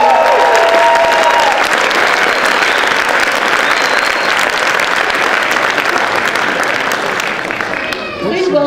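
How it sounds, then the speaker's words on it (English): A large outdoor audience at a Christmas tree lighting ceremony applauds loudly and continuously, dense clapping filling the whole stretch with a voice briefly heard at the start and near the end. "require another round of applause."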